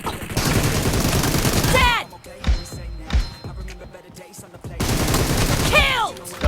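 Gunfire in the mobile battle-royale game PUBG Mobile, from a weapon stuck on single-shot mode. A few separate sharp shots and bangs fill a gap between stretches of loud talking.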